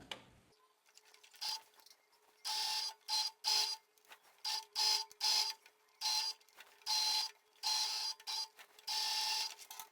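Sewing machine topstitching close along a fabric edge: rapid mechanical whirring bursts of stitching, starting and stopping in short runs with brief pauses, close and clear in a quiet room.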